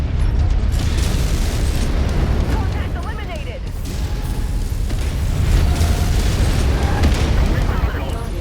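Weapon fire pounds a mech in the MechWarrior 5 video game, loud booming impacts and mechanical clanks layered over a continuous roar, with someone talking over the action.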